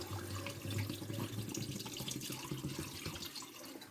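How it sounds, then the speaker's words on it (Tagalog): Water runs and splashes steadily into a cooking pot for soup broth, a close, continuous gurgling pour that tapers off near the end. "Lagyan natin tubig, pansabaw."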